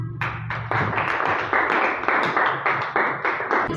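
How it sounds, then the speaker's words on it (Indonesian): A classroom group claps in a burst of applause, a dense run of hand claps that swells and stays steady for a few seconds. "Tepuk tangan."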